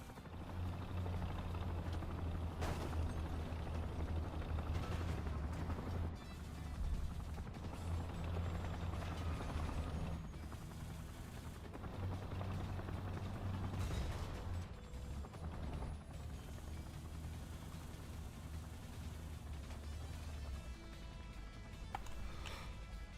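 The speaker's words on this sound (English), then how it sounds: "when our helicopters get this close, that's not a good sign" Helicopters in the War Thunder video game drone with a steady, close rotor thrum, joined by mechanical clatter and occasional sharp bursts across the battle.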